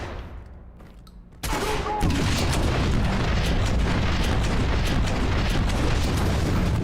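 Explosion in Watch Dogs, a sudden loud boom after a quieter lead-in, followed by a sustained roaring rumble of blast and debris that stays strong to the end.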